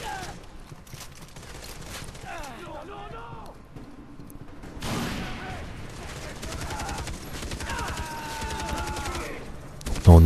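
Gunfire in the video game Far Cry 3, with repeated shots and bursts over a busy mix of game sound and speech, growing louder toward the end.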